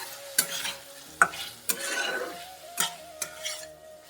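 Small cubes of paneer and corn kernels stirred in a frying pan, with a soft sizzle underneath and a few sharp spoon-scrapes and knocks against the pan at irregular moments, close up.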